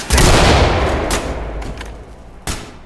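A loud blast of explosive gunfire in the video game Ready or Not rings out and decays, followed by a few more sharp shots, close and heavy, with no talking.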